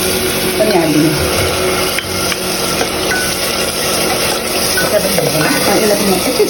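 Chillies and tomato puree frying with spices in hot oil, giving a steady, loud sizzle with stirring scrapes in a pan throughout.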